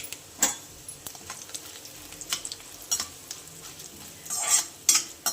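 Cumin, mustard seeds, chana and urad dal and two chillies frying in sesame oil for South Indian tomato pickle, a soft close sizzle broken by scattered spoon stirs and clinks against the pan.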